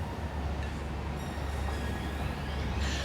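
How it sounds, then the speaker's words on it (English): Concrete-hauling train rolling along in Satisfactory, a steady low rumble of wheels and rail noise with a faint high squeal, continuous throughout. "Finally, we have a concrete train that's actually going somewhere."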